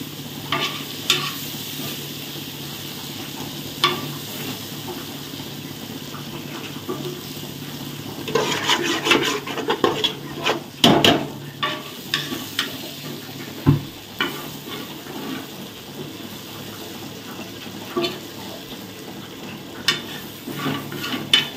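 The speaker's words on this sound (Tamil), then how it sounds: "இப்போ நம்ம இந்த வறுத்து வச்சுருக்க எறாவை வந்து இதில் போடலாம்." Fried prawns being stirred into a sizzling masala in a pan for prawn biryani, with a steady low sizzle underneath and repeated soft scraping and clinking of a spoon against the pan, fairly close and without talk.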